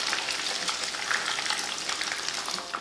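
Chicken deep-fries in oil until crispy, giving a continuous bubbling crackle with fine popping bursts, close and fairly loud throughout.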